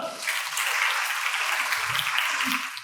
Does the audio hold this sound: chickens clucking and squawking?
no